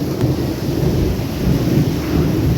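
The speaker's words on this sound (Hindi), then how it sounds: "ओले पड़ रहे हैं" Hail pelts down steadily across a back yard, a dense, loud, continuous rushing patter of icy pellets with no pauses.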